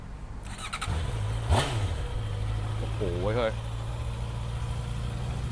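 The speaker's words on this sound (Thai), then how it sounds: "เดี๋ยวฟังเสียงเครื่องยนต์ฮะ" A Honda motorcycle, shown alongside a CB650 and a Rebel 300, starts up and settles into a steady idle, with a brief rev in the middle, while someone speaks over the engine.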